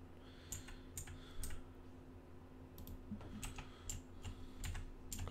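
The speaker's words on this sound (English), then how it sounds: "Sorry about my keyboard if you can hear my keyboard." Computer keyboard typing during a Rust base-building game session: quick irregular clicks and clacks in short bursts, moderately close, over a low steady hum with no talking.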